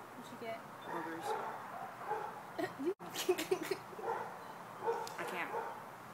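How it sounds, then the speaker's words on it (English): A dog gives a few faint, short barks and yips, with a brief cluster in the middle, mixed in with people talking nearby. "Control your dog."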